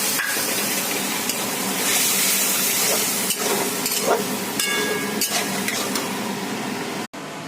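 Water goes into a pumpkin, potato and prawn curry that is already cooking. The result is a steady, fairly loud sizzling hiss with occasional clinks of utensils, close by, before the sound cuts off abruptly.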